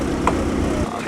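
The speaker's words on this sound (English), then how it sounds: "You can hear a motor idling." A Ford concept car's motor idles nearby at a concours event, a steady low rumble with a brief swell, under faint background voices.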